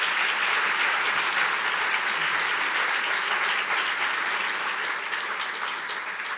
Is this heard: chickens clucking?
no